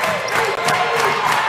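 A standing crowd at an NAIA basketball tournament game roars and cheers steadily as Campbellsville nears a win, a dense wall of voices filling the arena.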